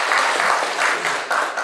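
An audience claps steadily after a lecture, a dense, even wash of many hands close by without pause.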